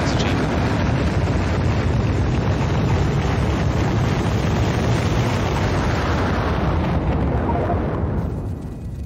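Rocket launching in Factorio, a loud sustained roaring rumble that holds steady for several seconds before easing off slightly at the end.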